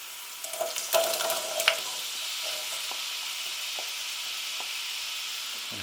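Chopped carrots and celery with softening onions sizzle steadily in a hot pan while being stirred, with a few scraping clatters early on, then a constant frying hiss with no talking.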